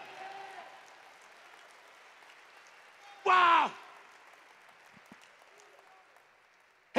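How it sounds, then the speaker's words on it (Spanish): Congregation applause during a church retreat service in Mexico City, a steady wash of clapping under and between preaching, broken midway by a short, loud shouted exclamation. "Denle un aplauso al Señor."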